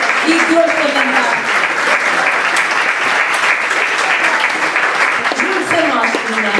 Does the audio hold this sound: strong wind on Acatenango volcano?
no